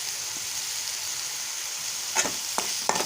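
Bread cubes masala is stirred in a sizzling pan, giving a steady frying hiss throughout with a few brief scraping knocks of the spoon near the end.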